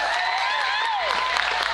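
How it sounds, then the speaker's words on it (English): Crowd applause at the Bonnaroo music festival after a singer's live set: a dense, steady wash of many hands clapping together, with some whistling or cheering tones rising above it, loud and continuous throughout. "Give him another round of applause"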